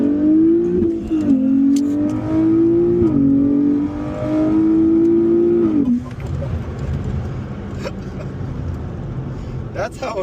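A turbo-upgraded Nissan Z with its VR engine pulls hard through the gears, the engine note climbing in strong runs broken by quick shifts, then dropping off. Excited voices speak over it inside the car.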